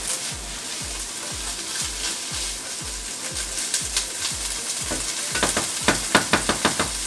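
Peppers and chickpeas sizzle steadily in a hot pan while being stirred, with a regular scraping rhythm of the utensil that grows louder and quicker toward the end.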